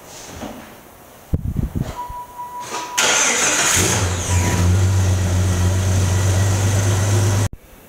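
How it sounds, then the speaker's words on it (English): A Jeep ZJ Laredo engine that has sat for four months cranks in short bursts and fires, then settles into a loud, steady idle close by. "We'll see if it wants to fire up."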